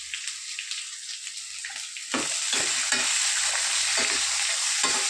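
Chopped onions and peanuts sizzle and fry in hot oil, a steady close hiss that jumps louder midway as the onions go in, with stirring scrapes through it.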